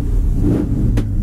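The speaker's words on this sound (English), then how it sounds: "This car sounds nice and healthy." A 1970 Camaro's engine runs steadily at idle, a loud close throbbing rumble with no talk over it.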